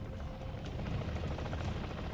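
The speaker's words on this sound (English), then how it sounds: "that is when the helicopter pulls off" A helicopter in the MW Zombies video game lifts off and flies away, its steady rotor thrum forming a faint, even wash of noise with a soft rhythmic pulse and no voices over it.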